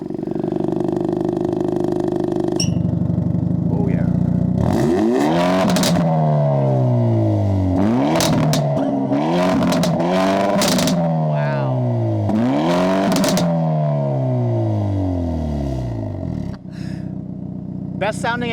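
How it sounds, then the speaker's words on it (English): A 2022 Hyundai Elantra N turbo sport compact sedan engine fires up and revs hard repeatedly, its loud exhaust sweeping up and down in rapid bursts with crackles between, close and alone after a steady idle. "So let's fire up that engine because the N line sounded okay"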